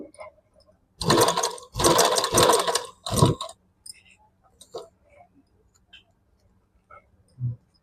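Sewing machine stitching piping onto the neckline of an umbrella-style dress, running in three close bursts of rapid stitching, then falling quiet apart from a few faint clicks and handling sounds.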